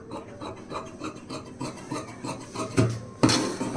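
Scissors cutting blouse lining fabric along a marked, drawn curve, giving a series of soft rhythmic rasping snips up close, ending in a sharper, louder snip near the end; no talking.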